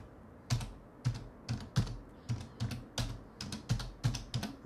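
Formula typed on a computer keyboard into an Excel spreadsheet, heard as quick bursts of clicky keystrokes in short clusters, close and clear with no talking.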